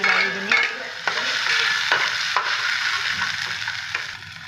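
Chopped tomatoes added to a pan of cooked onion, stirred and frying with a steady sizzle and scraping spoon strokes at a close, even level, no voices.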